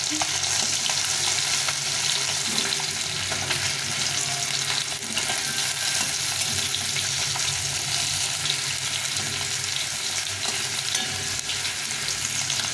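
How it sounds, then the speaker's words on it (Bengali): Rohu fish pieces fry in oil with a dense, loud, unbroken crackle and sizzle that stays even from start to finish, close up and free of speech. "তো এইভাবে মাছগুলো আমি ভেজে নেবো সবগুলো মাছ ভেজে নেবো"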